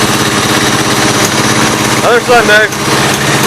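A smoky small engine with a swapped carburetor runs steadily and loudly close by, its rough continuous drone fluctuating slightly, with someone speaking briefly over it.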